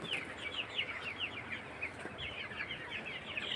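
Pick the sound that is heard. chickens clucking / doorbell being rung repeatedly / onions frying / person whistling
chickens clucking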